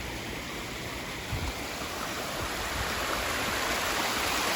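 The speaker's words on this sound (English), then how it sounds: "of water making quite a loud noise as they cascade down" A waterfall in Central Park cascades into a pool with a loud, steady, full-range rush of water, continuous and close throughout with no voices.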